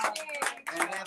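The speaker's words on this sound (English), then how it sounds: "Let's give Anthony a round of applause." A live audience gives Anthony a round of applause, scattered close clapping mixed with a voice talking over it.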